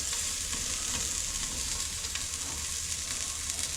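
Beans searing in a hot pan over a fire, giving a steady, close, continuous sizzle and frying hiss with no talking.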